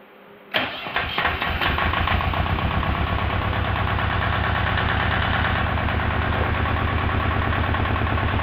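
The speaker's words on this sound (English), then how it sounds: "engine really runs great" A Volvo MD6B marine diesel engine, converted to a generator, turns over and fires, then holds a loud, steady idle with a rhythmic diesel clatter, close by and unbroken.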